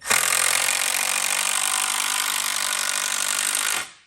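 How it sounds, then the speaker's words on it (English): A power driver sinks a 3-inch screw into a wooden chicken coop leg during assembly, one loud continuous grinding whir lasting several seconds before stopping abruptly. "we're going to add 2 screws. You can add 3."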